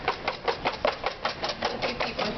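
Sabayon for chocolate mousse is whisked in a bowl, giving a quick, regular rhythm of soft strokes, about four per second and moderately close, with no talking.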